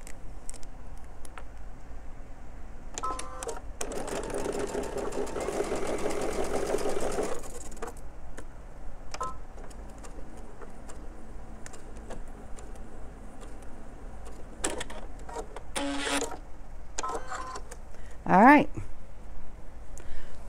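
A sewing machine stitches quilt squares in a short, rapid burst of whirring, then falls silent while a person talks, with a few brief clicks and another quick run near the end.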